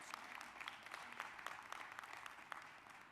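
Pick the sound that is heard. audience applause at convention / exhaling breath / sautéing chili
audience applause at convention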